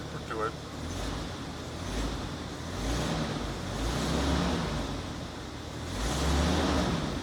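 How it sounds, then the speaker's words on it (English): A CJ7 Jeep engine runs and is given some throttle, rising and falling in a few swelling revs over a steady rumble, with someone talking over it. "But sometimes if I give it a little gas, it'll do it."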